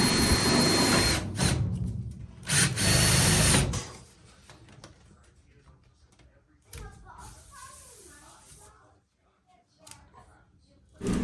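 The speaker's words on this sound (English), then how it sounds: "So we'll measure and cut strips of galvanized sheet metal to size" Galvanized sheet metal strips are cut to size during a whole-house humidifier install, with harsh, loud bursts of cutting noise early on that give way to quieter handling clatter and scraping.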